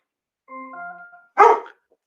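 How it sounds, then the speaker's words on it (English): A pet dog at home lets out a whining, tonal yelp followed by one sharp, loud bark, close by in an otherwise quiet room. "My dog is going crazy."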